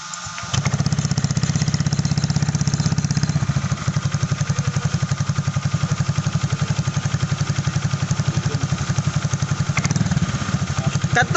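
Honda Click 150i scooter fitted with a Kawahara racing pipe and double silencer, idling close up with a steady low rhythmic exhaust throb after starting, briefly revving near the end.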